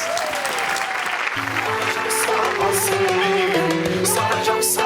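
Studio audience on a Turkish morning show applauds for a singer, loud sustained clapping with upbeat music starting beneath it after a moment.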